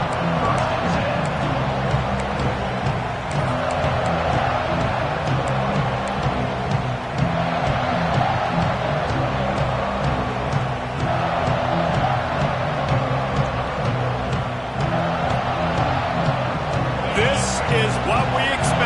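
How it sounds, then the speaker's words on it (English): Steady roar of a stadium crowd in the NCAA 26 college football video game, a dense continuous wall of noise filling the whole clip, with commentary voices talking over it. "This crowd ready to make its presence known."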